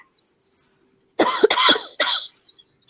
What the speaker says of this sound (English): you can hear my cough